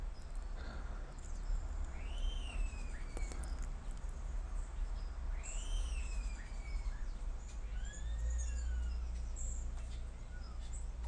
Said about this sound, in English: Got some nice bird sounds that are helping out here.